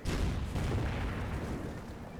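Gunfire and artillery fire in the World War II strategy game Company of Heroes, a dense, continuous rumble of booms and shots that stays loud throughout, with no talk over it.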